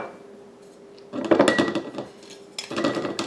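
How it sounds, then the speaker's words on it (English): A utensil stirs a yeast mixture inside a jar, a quiet start giving way to rapid close clinking and scraping against glass in two bursts. "We're going to mix that together until it's mixed up pretty good"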